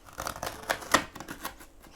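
Book pages being cut by hand at close range, heard as a few crisp, papery snips and rustles spread across a quiet moment, with no talking.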